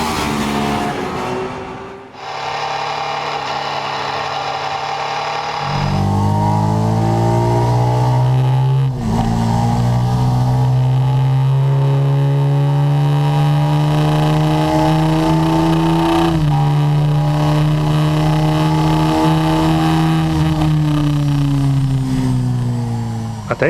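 A Ducati 999 motorcycle engine revs hard and accelerates through several gear changes, its loud, close engine note climbing in pitch, then dropping at each shift before pulling up again.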